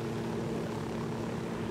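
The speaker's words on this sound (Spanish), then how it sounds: "Parece que voy borracho aquí conduciendo el helicóptero" A helicopter flies in the video game Ghost Recon, its engine and rotor making a steady, loud drone with low harmonic tones that holds evenly throughout, with no speech over it.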